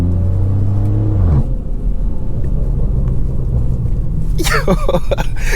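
Loud aftermarket exhaust on a BMW 340i with a B58 engine, in comfort mode, rumbling and burbling up close, a deep idle that drops briefly then pops and crackles toward the end.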